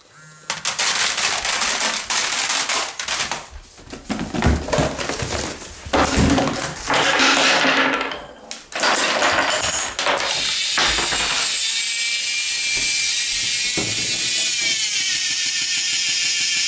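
A homemade Rube Goldberg ramen machine runs through its chain of parts, with loud rapid clattering, knocking and rolling wooden and mechanical impacts, ending in a steady whirring drone.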